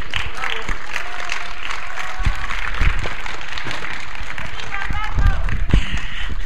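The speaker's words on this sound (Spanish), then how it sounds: "Un fuerte aplauso." An audience applauds a speaker being introduced at a lecture about Juan Escudero, with steady clapping running the whole way through and a few heavier thumps and louder bursts near the end.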